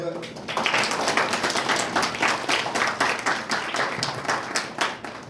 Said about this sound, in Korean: 박수로 다 환영해 주시기 바랍니다.